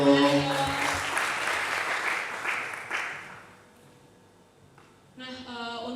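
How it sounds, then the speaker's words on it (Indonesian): Online church service audience claps for a young pastor in a brief burst of applause that fades out after about three seconds, followed by quiet and then a voice speaking. "Tepuk tangannya dong."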